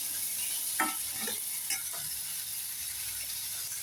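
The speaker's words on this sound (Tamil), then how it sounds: "நல்லா வதங்கட்டும். ஒரு 2 நிமிஷம் வதங்கட்டும்." Onions sauté in a pan with a low, steady sizzle, broken by a few soft scrapes and clicks of a spoon stirring them.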